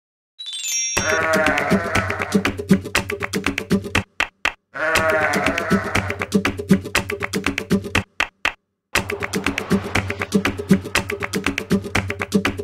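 Cartoonish sheep bleats for a children's nursery rhyme come in long repeated phrases over a steady tapping beat, loud and close, with brief silent gaps between sections.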